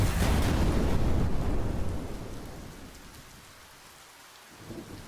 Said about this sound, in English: Was it raining before? I don't think it was raining before.